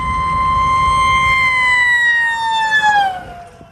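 An ambulance siren in downtown Williamsburg wails loudly and steadily at close range, a sustained tone that slides downward near the end as the vehicle passes and fades.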